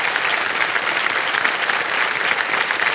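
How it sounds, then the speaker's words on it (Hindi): Dense, sustained applause from a television game show studio audience on the set of KBC, an even roar of clapping hands throughout with no voices over it. "तालियां बज जाए इनके लिए"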